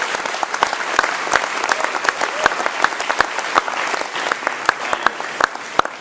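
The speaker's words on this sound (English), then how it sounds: "So please, round of applause for our students." Audience applause for graduating university student athletes at an awards event, a steady burst of many hands clapping with sharp individual claps standing out, moderately loud and sustained across the whole stretch.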